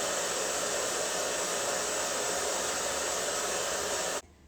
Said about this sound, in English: So let's go ahead and do a little blow drying